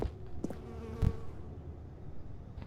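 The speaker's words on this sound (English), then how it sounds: "Why the bees are floating around?" A soft, continuous insect-like buzz of bees in The Stanley Parable: Ultra Deluxe drones at low volume, with a couple of faint clicks and thumps in the background.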